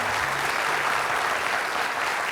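A studio audience at the French quiz show Questions pour un Champion applauds the winner, a dense, steady wash of clapping that fills the room from start to finish with no talking over it.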